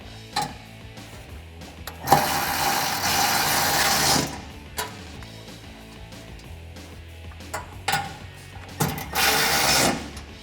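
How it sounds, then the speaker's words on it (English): A ratchet wrench with a 10 mm socket tightens two nuts on a Borla ATAK dual exhaust fitted to a Jeep Gladiator JT. The work gives off bursts of rapid clicking and mechanical rattles, loud and close, with pauses in between. "I'm just going to reach back here and tighten these two nuts down with my 10 millimeter socket"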